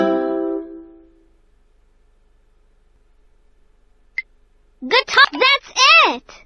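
A short plucked guitar phrase plays in the Dora the Explorer video game Dora's Big Birthday Adventure. It is a brief harmonic tone at the start, followed by silence, a click, and then a character speaking.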